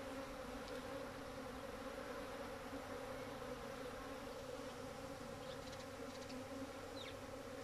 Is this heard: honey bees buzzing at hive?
yes